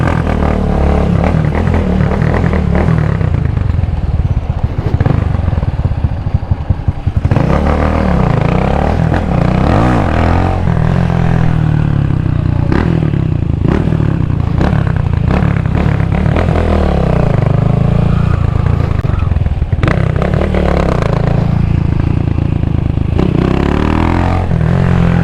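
A 250cc six-speed motorcycle is ridden, its engine loud and close throughout, revving up and down through the gears, with clattering and rushing wind noise.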